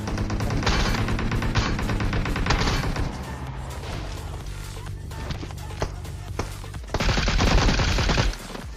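Bursts of MK14 rifle fire ring out during a battle royale video game, a few sustained volleys of rapid loud shots separated by quieter stretches of ambient game noise.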